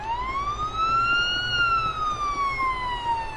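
Police car siren from a police simulator video game, a single rising and falling wail sweeping steadily over a low engine rumble, with no voices over it.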